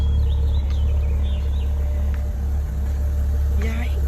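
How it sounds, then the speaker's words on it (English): Deep steady rumble of an idling Maserati Levante SUV engine close by, with a low throbbing drone and faint voices in the background. "Y'all heard that engine?"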